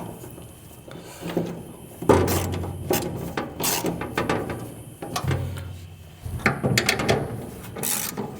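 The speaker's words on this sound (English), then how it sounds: "Then I need to tighten down those two bolts." Nuts being tightened on a New Holland tine bar, with close metallic ratcheting and clicking of a wrench in short bursts, punctuated by louder clanks and knocks of metal parts, no talking.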